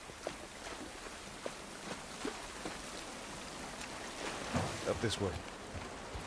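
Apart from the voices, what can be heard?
rain falling outside in The Last of Us Part 1 video game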